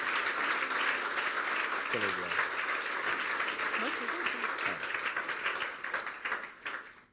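Church congregation applauding in a broad, steady wash of clapping that holds for several seconds before thinning out near the end, with brief voices mixed in.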